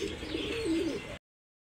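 A pair of tiger-colour Budapest pigeons coo close up: one clear, throaty rolling coo lasting about a second, then it cuts off into silence.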